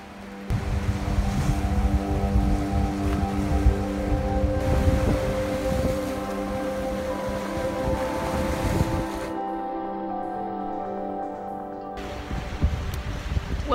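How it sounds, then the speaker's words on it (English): Wind buffets the microphone beside the sea at a small dock as waves wash in, a loud rushing roar that briefly drops away near the end. "it's a little bit cold and windy down here today"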